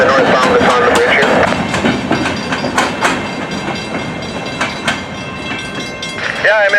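A northbound train rolls across the Fraser River bridge in New Westminster, its wheels clattering in a steady clickety-clack with loud metallic squeals and screeches. The sound stays close and continuous, with a brief whine near the end.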